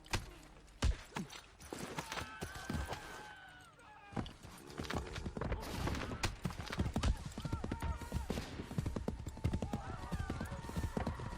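Video game horse hooves clip-clop in an uneven, quickening rhythm, close and crisp, with a horse snorting and a voice speaking over the hoofbeats.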